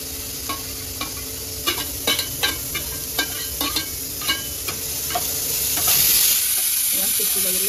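Onions frying in Amul butter with cumin in a pan for pav bhaji, a steady sizzle broken by repeated clinks and scrapes of a stirring spoon, close and fairly loud, with no talking.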